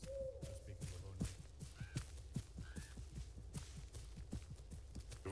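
An owl hoots in the Arma 3 video game, a few faint tonal calls over a steady run of soft footfalls that thud at a regular walking pace.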